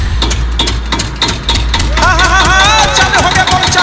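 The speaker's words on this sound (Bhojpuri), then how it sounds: "अभी हम तेल रह के जनरेटर चालू करते हैं" A diesel generator is started, with steady low engine rumble and rhythmic knocking pulses; after about two seconds a loud song with singing comes in over the running engine.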